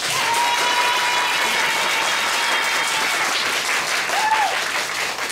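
A packed live-house crowd claps during a Japanese group's new-song debut concert, showing support for a song choice. The dense, sustained applause fills the room throughout, with a faint tonal hum and brief whistle-like sounds above it.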